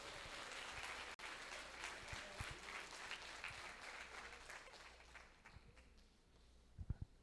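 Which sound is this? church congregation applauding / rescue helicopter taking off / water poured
church congregation applauding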